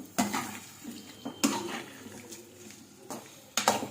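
Bitter gourd pickle ingredients being stirred in a pan, with a few sharp scraping and clanking strikes of a spoon against the metal, separated by quieter gaps of faint shuffling.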